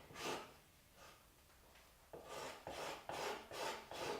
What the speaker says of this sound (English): With our card scraper and file.